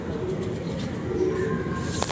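Pigeons cooing on a midday outdoor scene, soft low calls repeating under steady background noise, fairly faint with no clear talk.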